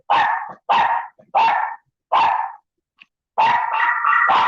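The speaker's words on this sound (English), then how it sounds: "What you barking at?" A dog barks indoors in a string of loud, sharp barks, four spaced single barks, a brief pause, then a longer run of rougher barking, close and alone.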